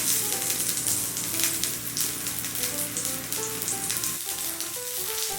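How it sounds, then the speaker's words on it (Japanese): White leek cut into 3 cm pieces fries in a lightly oiled pan for a grilled leek soup. A loud, close, crackling sizzle runs throughout with steady popping, and it thins briefly toward the end. "フライパンに少量の油を熱して3センチ長さに切った白ネギを炒めていきます"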